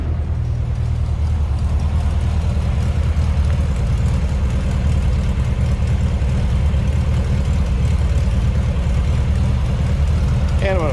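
A 1952 MG TD roadster replica, with its engine in a rear compartment, idles in neutral with a steady, even low rumble that holds unchanged throughout, fairly close and alone.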